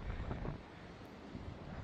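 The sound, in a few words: strong wind gusts from the mountain after a storm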